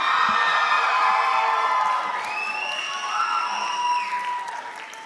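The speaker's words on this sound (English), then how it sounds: "I think one more round of applause." Audience applause with cheering and whoops at the close of an Arangetram dance debut, a dense wash of clapping with voices and rising shouts over it, thinning toward the end.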